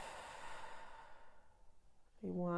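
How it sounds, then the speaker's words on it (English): Long, soft exhale through the mouth during a yoga class, fading over about two seconds before a voice begins speaking. "through the mouth, big deep breath out"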